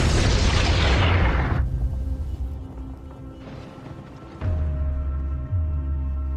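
A freeze bomb explosion in a Predator film rolls out in a heavy, roaring burst, then fades into a lower rumble. A second deep boom and lingering low drone follow.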